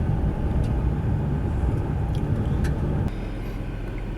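A manual car drives along with a steady, loud low engine and road rumble from inside the cabin. Around the three-second mark the rumble drops slightly and settles into a lower, even drone.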